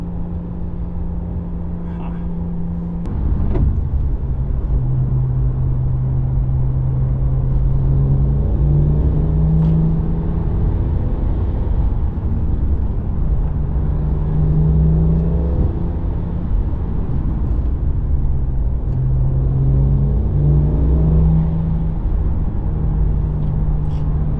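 A BMW with a twin-turbo N54 engine drives uphill, its steady engine drone and road rumble rising and falling in pitch through several gear pulls, loud and continuous from inside the cabin, with someone talking over it.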